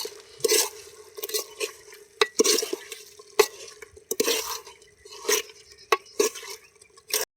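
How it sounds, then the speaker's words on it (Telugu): Chicken curry being stirred in a pot with a metal spoon, scraping and clinking against the sides in irregular close strokes with short pauses, along with faint wet sizzling. "ఇప్పుడు దీన్ని మనం మంచిగా కలుపుకుందాం."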